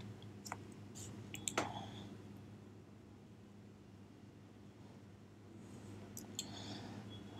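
A few faint, crisp computer mouse clicks in a quiet room, sharp ticks clustered early and again near the end over low background hum.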